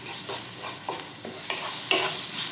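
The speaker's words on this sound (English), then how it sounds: "I'm going to pour a little bit of oil here in the middle, and I'm going to add about a teaspoon of cumin." About a teaspoon of cumin sizzling in a little oil poured into the middle of a lentil soup pot, a soft continuous hiss with several short stirring scrapes, close and fairly quiet.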